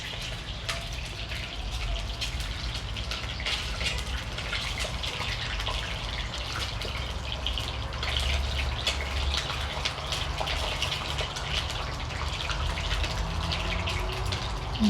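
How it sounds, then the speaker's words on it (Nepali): An egg frying in hot oil, spattering and popping in a steady, dense crackle that holds at an even level throughout, with no voices. "अन्डा चाहिँ एकदम फटफट भइरहेको छ, तेलमा पानी परे जस्तो छ"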